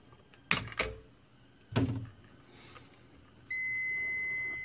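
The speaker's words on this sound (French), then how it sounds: "Ah, la deuxième diode émet un son," A multimeter in continuity mode beeps while testing diodes on a Sharp LED TV power board: a steady electronic tone starts partway through and holds to the end, after a few sharp clicks of probes and handling.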